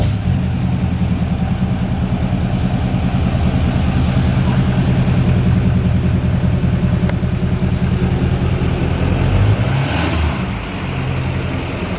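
Truck engine revving steadily with a newly installed intake box, a loud continuous rumble running throughout with a slight dip near the end.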